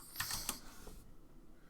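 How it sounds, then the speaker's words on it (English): A few quick keystrokes on a computer keyboard during LibreCAD drafting, a short close burst of clicks in the first half second followed by a faint tap and quiet. "So I'm gonna type in offset here, and 1/8."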